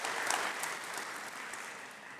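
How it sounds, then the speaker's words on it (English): An indoor evening public-talk audience at an event on the housing crisis gives a short burst of steady applause, soft and somewhat distant, slowly tapering as it goes. "they deserve a nice little clap because they've done a fantastic job"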